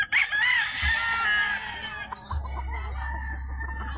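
A rooster crows loudly and close by among clucking backyard chickens at feeding time, the calls rising and falling over a low rumbling hum that starts partway through.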